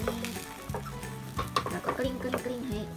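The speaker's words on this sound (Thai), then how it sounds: "ทีนี้เราก็เทไข่ลงไปเลยค่ะ" Loud oily sizzling of beaten egg poured into a hot pan for a Japanese rolled omelette, with scraping and stirring noises breaking in now and then; no one speaks.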